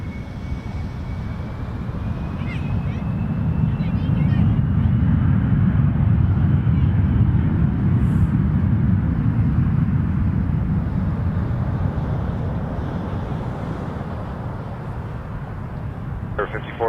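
Airliner taking off from runway 23 at Toronto Pearson: a broad, powerful jet engine roar swells to a peak and then slowly fades, heard from a distance at the field, with brief talk over it near the end.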